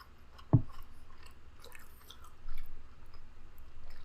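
Someone bites once into a Krispy Kreme Squirtle Pokémon donut, a soft close squish, followed by quiet, steady chewing and mouth sounds with no talking.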